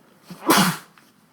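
A single sharp human sneeze bursts out loud and close, a short inhaled catch just before it, then quiet.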